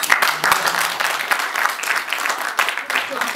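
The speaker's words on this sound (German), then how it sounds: "Das war ein Applaus wert" A cinema audience at a B-Film Basterds screening breaks into steady, fairly close applause that holds throughout, with a voice briefly heard over the clapping.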